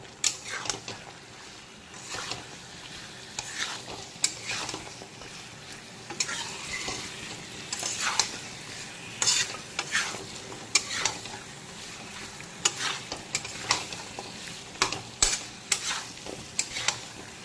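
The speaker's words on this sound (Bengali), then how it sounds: "পুঁই ডাঁটাগুলোকে 3-4 মিনিট সময় নিয়ে মশলার সঙ্গে একটু এইভাবে কষিয়ে নেব।" Malabar spinach stems are stir-fried in a spice paste over medium-high heat with a steady sizzle. A spoon scrapes and stirs through the pan in repeated, uneven strokes.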